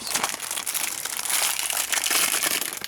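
Paper wrapping is pulled off a new speed puzzle cube, a remastered Moyu Aolong. The crinkling and crumpling is loud, close and continuous.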